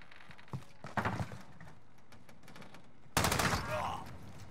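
Scattered shots in a Search and Destroy match of a first-person shooter video game, with a few faint early bursts and then a loud, sharp volley near the end.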